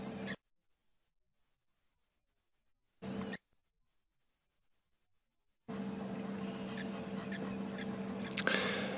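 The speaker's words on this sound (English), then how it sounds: "We've got Egyptian geese just coming down" Egyptian geese call at a waterhole on a safari drive at Djuma Game Reserve, with short honking bursts coming in two brief snatches and then a longer run of outdoor calling, fairly faint against open-air background.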